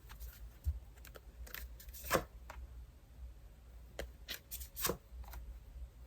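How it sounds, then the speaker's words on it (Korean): Tarot cards are shuffled and drawn close up in quiet surroundings, giving a series of soft riffling bursts and light snaps spread unevenly through the clip. "여러분 추가 카드 같이 뽑아보면서 디테일 더 보겠습니다"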